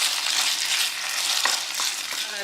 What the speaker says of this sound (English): And now we're gonna cook the beef.